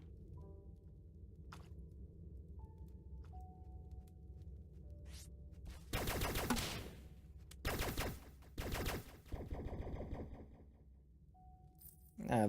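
Ranged-weapon gunfire in the snow biome of the video game Starbound, with loud bursts of shots around the middle and end mixed with game effects and chimes.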